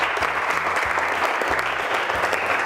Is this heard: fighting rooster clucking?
no